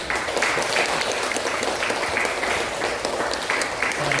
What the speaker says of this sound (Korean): 자, 박수 한번 하겠습니다.